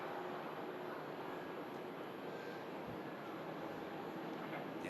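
Virgin Atlantic Airbus A330 jet engines spooling up for departure at Manchester Airport, a steady broadband roar held at constant loudness throughout, heard from a distance with no talk.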